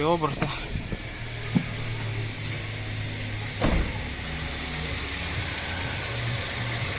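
A 2011 Hyundai Accent 1.6 engine idling steadily on its first start after engine repair, a low even hum with a few clicks early on and a brief bump partway through.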